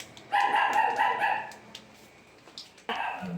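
Small dogs, toy poodles and Pomeranians, bark in short sharp yips at an outdoor pet market in Bocaue, a quick run of barks, then a pause and another bark, close by and fairly loud against faint crowd noise.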